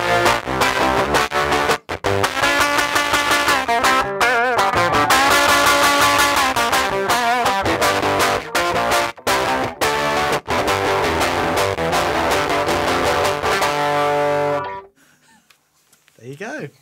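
Guitar played through a JHS Colour Box preamp pedal: a dense, loud amplified tone with strummed chords and brief dropouts between phrases, ending abruptly and followed by faint room noise.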